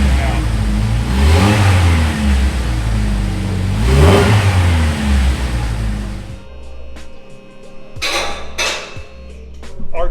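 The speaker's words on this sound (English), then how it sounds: "Let's start it up, get an idea what it sounds like" A Jeep TJ engine still fitted with its old muffler runs loud and steady with rising revs for about six seconds, then drops to a quieter, rougher idle with a few sharp metallic clanks.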